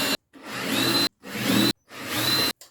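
A power drill bores pilot holes into wood in three quick close bursts, each whine rising in pitch as the bit cuts, separated by short silences.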